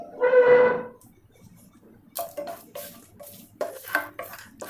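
Fennel, cinnamon and cardamom being roasted in a pan, with faint scraping and clinking stirring strokes after a brief tonal sound at the start, all fairly quiet.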